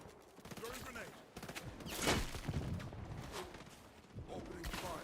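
Video game gunfire crackles in dense, busy bursts, with game voices and other clatter mixed in over roughly five seconds.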